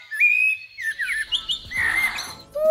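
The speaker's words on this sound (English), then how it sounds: "This is the sound that birds make." Bird song alone: clear, bright whistled chirps and trills, several overlapping notes rising and falling, fairly loud and close with no talking.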